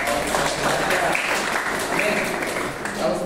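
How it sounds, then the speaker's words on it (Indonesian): Congregational applause at a church testimony gathering on a university campus in Bandung, a dense continuous wash of clapping from many hands that stays steady and fairly loud for a few seconds, with a voice faintly mixed in. "Tepuk tangan buat Tuhan Yesus."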